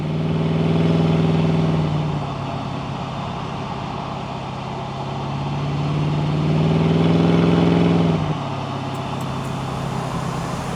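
Supercharged 1964 Studebaker Avanti coupe cruising at about 50 mph, a steady droning engine hum from the cabin that swells and eases twice, with no voices.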